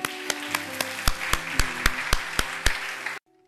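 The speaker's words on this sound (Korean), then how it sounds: "우리 한번 하나님께 감사의 박수를 드리겠습니다." Church congregation claps together in a slow, even rhythm, about a dozen sharp unison claps in roughly three seconds before stopping abruptly.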